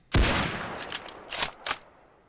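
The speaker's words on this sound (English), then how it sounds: "after you fire it, there's like a second of reloading that you have to go through before you can shoot again" A sniper rifle firing in a Minecraft 1.17 snapshot video game: one sharp loud shot followed by a few quieter cracking bursts over about two seconds, close and alone.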